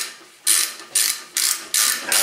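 A ratchet wrench clicks through four quick bursts of rapid metallic ratcheting, close and crisp with brief pauses between strokes, during a front wheel bearing replacement on a 2011-2016 Ford Explorer Sport.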